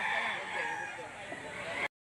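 A rooster crows once at a chicken auction market in Lipa, Batangas, a strained, sustained call amid market bustle, fairly faint and cut off abruptly.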